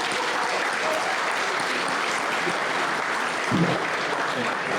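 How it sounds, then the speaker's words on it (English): Audience applause at a black-and-white charity gala fills the room, a steady, dense clapping that holds at an even level throughout with no pause. "That's a round of applause."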